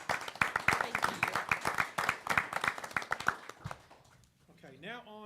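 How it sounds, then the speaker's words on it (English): Clapping from the audience at a university advisory board meeting, a short round of hands applauding that fades out, followed by a brief voice at the end. "can we give them a round of applause?"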